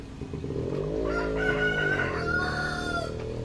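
A rooster crows loudly and steadily, with Rhode Island hens clucking close by and faint engine hum in the background.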